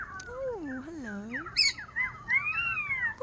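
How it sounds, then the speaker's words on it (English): A pet bird sings close by, with swooping whistled notes and gliding trills broken by short harsh squawks, loud and clear indoors with no other sounds. "Beautiful bird. Aren't you?"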